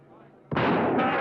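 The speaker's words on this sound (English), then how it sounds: "I'll try firing over their heads." A single warning gunshot fired over people's heads cracks loudly over a murmuring crowd, and a long reverberating rumble follows in a Western TV scene.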